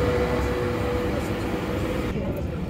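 Ride on an Istanbul tram, a steady loud rumble of the moving car with rolling wheel noise and a faint high whine, continuous throughout.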